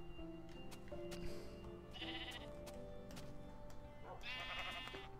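Sheep in the video game Minecraft bleat twice, a moderately loud quavering call followed by a longer one, over faint game background sounds.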